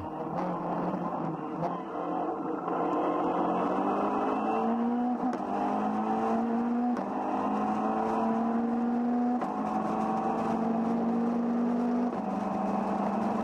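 A Caterham 420R race car engine drones steadily from inside the car at the Monza circuit, its pitch climbing through repeated gear shifts with brief dips between each rising pull.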